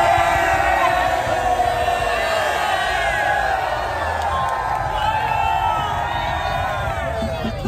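A large, tightly packed crowd cheers and shouts in a parking lot at the WGI finals, a loud, continuous roar of many voices with whoops rising above it.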